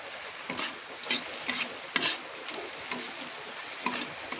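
A fish head fries in spiced oil while being stirred, giving a soft steady sizzle broken by repeated scraping and clinking stirs at irregular intervals, close and fairly quiet.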